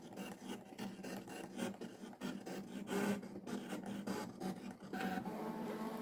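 A cutting machine slicing out a word for a multicoloured Mario-themed lettering project, giving a steady mechanical rasping and scraping with rapid repeated strokes, fairly loud and continuous with no talking.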